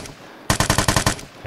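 Rapid burst of automatic gunfire in the video game Vigor, about nine close, loud shots in even rhythm after a brief lull, followed by another shot near the end.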